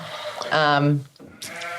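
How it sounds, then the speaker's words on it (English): A sheep gives a single loud, wavering bleat close by, followed by a brief higher call, with talk and a quiet room around it. "Sheep have just gone to town."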